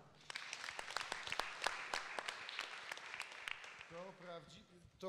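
Applause at an award ceremony: a room of people clapping, bursts of claps carrying through the first few seconds before a voice takes over near the end.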